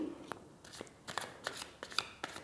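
A deck of tarot cards being handled while a single card is pulled, producing a series of soft, sharp papery flicks and slides at close range over a quiet background.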